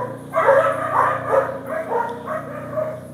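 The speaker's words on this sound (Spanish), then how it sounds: "A ver esos perros, cálmenmelos un ratito." Several dogs bark and yip in a restless cluster, loud and close, with whimpering mixed in and no talk over them.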